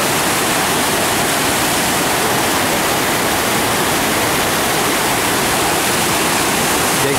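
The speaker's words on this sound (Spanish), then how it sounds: "están viendo debajo del puente sobre el arroyo San Lorenzo." Stream water rushes loudly and steadily beneath a bridge over the San Lorenzo creek, a continuous broadband roar filling the whole stretch with no voices.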